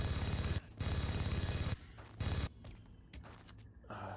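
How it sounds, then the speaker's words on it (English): Precision rifle fire in the video game Red Faction: rapid loud bursts of gunfire in three close volleys, followed by quieter scattered shots and game effects. "Favorite gun in the game, the precision rifle."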